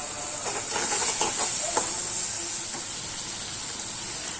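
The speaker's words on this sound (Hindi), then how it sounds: "प्याज और अदरक लहसुन और हरी मिर्ची का पेस्ट अच्छे से पका लेंगे" Chopped onion with ginger-garlic and green chilli paste sizzles steadily in a hot pan, a close, bright frying hiss with a few soft stirring scrapes early on.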